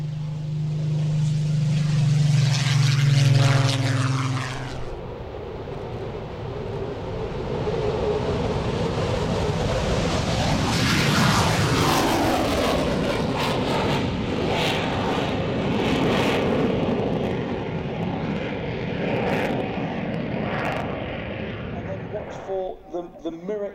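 Avro Vulcan XH558 bomber taxiing at Waddington, its jet engines swelling into a loud, shifting roar that rises and falls over time, with a voice speaking over the start.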